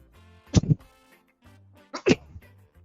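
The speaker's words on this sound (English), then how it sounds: "Hang on, I'm gonna sneeze." A person sneezes twice in a kitchen while making biscuits and gravy, two sharp, loud bursts close to the listener, the second a little over a second after the first, with quiet between them.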